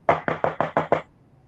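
Six quick, evenly spaced knocks on a door, loud and close, then silence.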